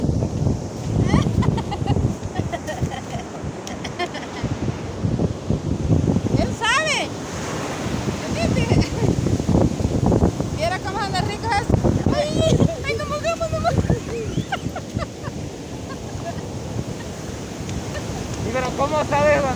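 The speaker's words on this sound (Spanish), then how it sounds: "¡Viene la ola!" Ocean surf on a beach at Chiquistepeque, Guatemala, a continuous loud wash of breaking waves and strong wind buffeting the microphone, with people talking and calling out over it throughout.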